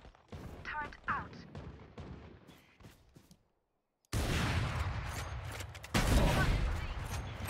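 Rapid bursts of gunfire from a team shooter video game crackle loudly in two dense stretches, with players talking over the earlier sparser shots.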